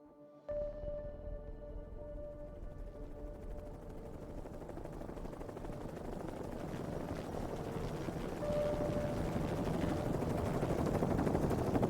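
Helicopters landing, used as a horror podcast sound effect: a steady, chopping rotor drone that starts abruptly and slowly swells louder, with no voices.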